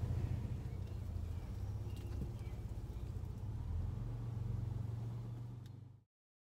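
A Ford pickup backs a trailer slowly using Pro Trailer Backup Assist, its engine a soft, steady low hum at near idle, faint and continuous until it cuts off.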